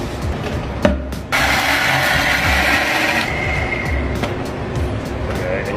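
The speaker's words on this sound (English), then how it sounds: "leave that there while we go and grind these peppercorns" Peppercorns ground in a kitchen, giving a steady, loud, continuous gritty rasping and crunching that carries on for several seconds.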